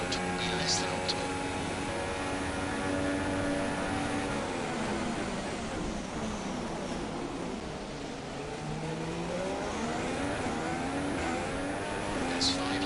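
A Formula 1 car engine in the racing game F1 2016 holds a steady, loud high-pitched whine that rises and falls through gear changes across the whole stretch, with a voice talking over it.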